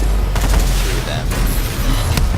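Rapid machine gun fire from the Paladin scorestreak gunship in Call of Duty: Advanced Warfare, a dense continuous barrage with heavy low booms running throughout, loud and close, with bursts of louder shots layered on top.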